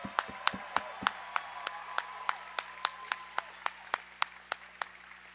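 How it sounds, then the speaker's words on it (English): Sparse, rhythmic clapping at a roller derby bout, individual sharp claps repeating at a steady pace roughly every third of a second, fairly close and distinct over a quiet hum rather than a full crowd roar. "put your hands together for all of our volunteers who make all this possible"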